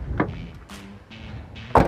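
The rear door of a 1997 Chevrolet Blazer is worked by hand: a soft click and creaking movement are followed by a solid, close thud as the door shuts, with no voices.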